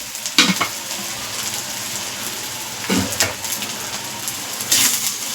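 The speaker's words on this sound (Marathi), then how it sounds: "तर हा तेलामध्ये भाजून घेऊया तांबूस रंगावरती" Onion fries in oil in a pan. A constant crackling sizzle runs throughout, broken by a few louder stirring scrapes, close and moderately loud.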